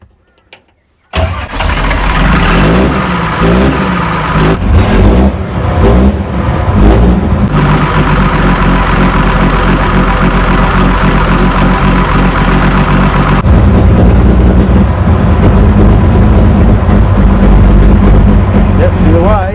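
A 70-year-old Allis Chalmers road grader, left sitting for years, cranks and fires up, then settles into a loud, steady running rumble that is revved with throttle. The engine is close and continuous, and someone talks over it.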